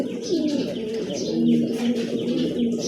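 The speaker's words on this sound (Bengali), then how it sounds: "খুবই চমৎকার একজোড়া কবুতর, দেখছেন মাশাআল্লাহ দেখার মতন একজোড়া।" A pair of pigeons coo in low, rolling, throaty phrases that repeat steadily and sit close and clear, with soft chirps now and then over a faint background.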